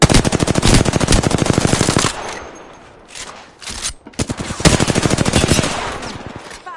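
Rapid automatic gunfire in Apex Legends: two long, evenly spaced bursts of loud close shots, separated by a brief lull with scattered clicks and clatter, the firing resuming at the same fast rhythm.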